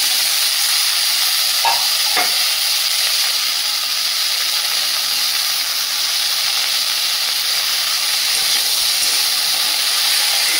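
Potatoes and washed flowers fry together in a hot wok, giving a steady, loud sizzle and hiss throughout, with a couple of brief stirring scrapes early on and no talking.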